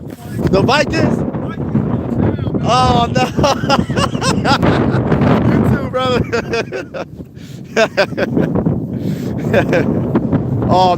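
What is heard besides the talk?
wind blowing outdoors on the microphone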